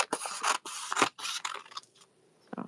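Scissors cutting card paper down to size for gel printing and card making, a quick series of crisp snipping and slicing strokes in short bursts, close and clear, with a pause before a final cut.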